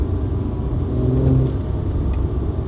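A Mercedes C400 4MATIC engine holds around 3000 RPM, a loud, continuous rumble from inside the car with a humming tone that swells briefly in the middle.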